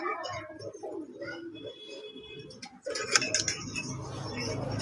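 Fancy pigeons on a large breeding farm coo softly in short, low, throaty bursts amid faint background noise and brief chirps, fairly quiet and close.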